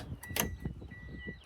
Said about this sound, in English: And let's open the door.